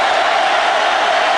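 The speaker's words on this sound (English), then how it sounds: "Crowd getting stirred up." Dense, steady roar of a football stadium crowd at a 2010 Auburn vs South Carolina game on third down, loud and continuous with no distinct individual voices.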